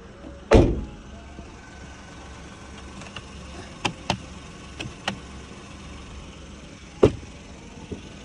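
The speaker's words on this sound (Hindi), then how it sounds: "गाड़ी थोड़ा ना ऐसे चरचर कर रही है" A car being driven with a loose, taped bumper gives sharp creaks and rattling knocks, one strong clunk near the start and scattered clicks and taps later, set against a low, steady road rumble.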